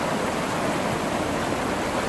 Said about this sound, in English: Water's running pretty fast